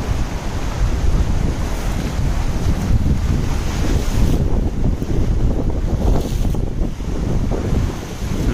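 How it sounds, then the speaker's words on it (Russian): Rough, churning ocean surf breaking continuously with strong wind buffeting the microphone, a loud, dense wash of water noise with no gaps. "Ах, какие волны. Разбушевался океан."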